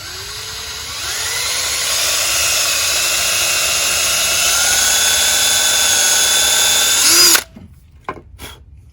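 A cordless power drill drives exterior screws at an angle into a wooden garden gate, its motor whining steadily for about seven seconds before stopping abruptly, followed by a couple of short clicks, loud and close.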